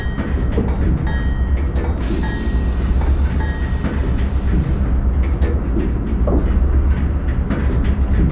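An Amtrak Northeast Regional train pulls out of Newark Penn Station, with a loud continuous rumble of rolling wheels on rail and faint clicks and a brief squeal, heard from on board with no talking.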